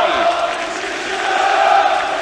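Dense crowd roar fills İnönü Stadium at the end of a Beşiktaş–Gençlerbirliği Turkish Cup football match in 2003, a steady wash of applause and cheering from thousands of fans without a break.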